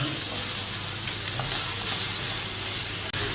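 One large chopped onion and five garlic cloves sautéing in a pan, a loud unbroken sizzle close up with faint stirring, no voices.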